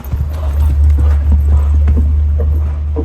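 A horse's hooves clip-clop in a steady trot during rejoneo training, loud and close over a heavy low rumble, with faint voices in the background.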